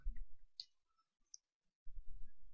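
A single computer mouse click to save a file in 3D animation software, a short sharp tick heard close and alone, with a second faint click shortly after and low room noise around it.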